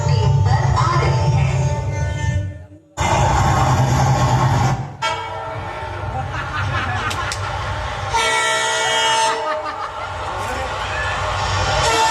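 A train rumbles past during a tamasha folk theatre show, with drawn-out horn blasts rising over the steady rolling noise and voices heard around it.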